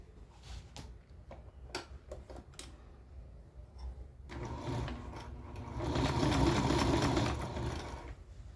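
A sewing machine stitches a backpack-style bag, starting with a few scattered clicks and ticks, then running in a steady rapid mechanical whir that swells louder before easing off, with no talk.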